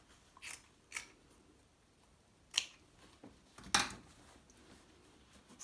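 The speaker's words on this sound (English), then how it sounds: "Then you can trim off that excess back to your 1/4 inch." Scissors snip through excess quilt binding fabric in a few separate, sharp cuts spaced over several seconds, close by with quiet pauses between.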